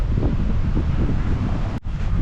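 Strong, bitter wind roars across a snowy mountain trail under a heavy snow advisory, buffeting the microphone in a continuous loud rumble with a brief dropout near the end.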